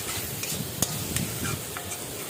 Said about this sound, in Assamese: আৰু এইখিনি ধুনীয়াকৈ আকৌ মিক্স কৰি দিলোঁ